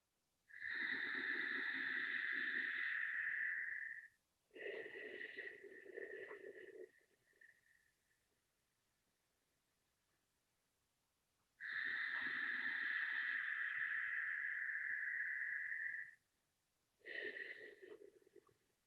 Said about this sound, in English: Begin long, deep breathing with the Ujjayi breath.